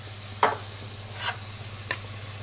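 A spoon scrapes through a cornstarch and water slurry in a small vessel, three brief, separate clinks and swishes spaced over a quiet background hum, with no talk.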